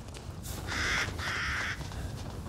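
Crows in the video game Resident Evil Village let out two harsh caws in quick succession, fairly close and clear above a low ambient rumble, with no speech.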